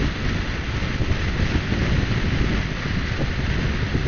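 Steady, loud wind roar buffets the microphone during a headwind ride on an Orcal Astor 125cc scooter at around top speed. The rushing noise is continuous throughout, with no pauses or voices.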